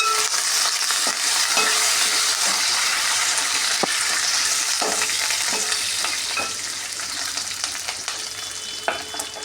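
Curry leaves spatter and crackle in hot oil for a tempering of mustard seeds while a potato kurma is made, giving a continuous close sizzle with scattered sharp pops and no speech.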